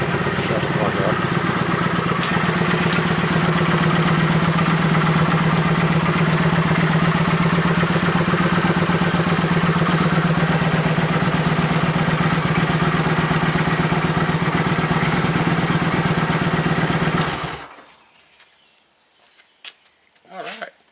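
A 2010 Kawasaki Vulcan 900 motorcycle idles up close with a steady, loud low rumble for about seventeen seconds, then shuts off, leaving faint handling noises.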